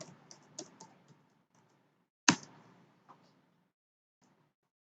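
Someone types an IP address on a computer keyboard, producing a sparse run of light, close key clicks. One sharper tap stands out in the middle, and the rest fades to near silence.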